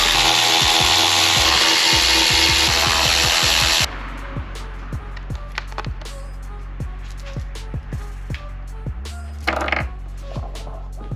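Bolts being taken off the rear fender of a 2019-on Yamaha R3 while a fender eliminator kit goes on: a loud whirring power-tool burst first, then a string of sharp ratchet clicks and tool taps, close up.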